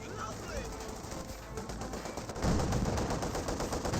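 Machine-gun bursts and heavier tank cannon shots crackle through a Company of Heroes 2 battle, with a steady din of gunfire and a louder surge of explosions midway, while someone talks over the action.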